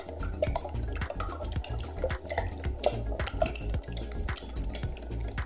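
Egg yolks being mixed in a bowl for ube flan, a steady clatter of utensil against the bowl with wet stirring and sloshing, close and continuous.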